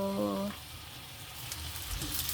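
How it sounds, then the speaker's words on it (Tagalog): Mince beef and pork menudo sizzles steadily in a pan while being stirred, a continuous close frying hiss after a brief voice at the start, with small scraping bursts near the end. "Halu-haluin. Mix together."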